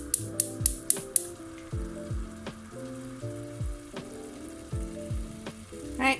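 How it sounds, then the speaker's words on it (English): Prawns frying in a pan, a soft steady sizzle broken by several sharp clicks at the start and repeated clunks as they are dropped in, with no voices. "Just put in your prawns."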